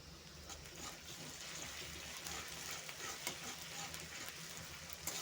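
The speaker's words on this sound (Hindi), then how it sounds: "2 मिनट में फ्राई कर लेंगे।" Ginger garlic paste frying in a pan, giving a soft, continuous sizzle with faint stirring scrapes, quiet and steady with no talking.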